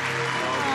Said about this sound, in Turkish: Alkışlar Serdar Ortaş'a gelsin efendim.